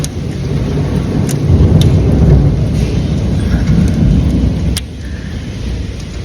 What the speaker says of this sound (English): it's still hailing.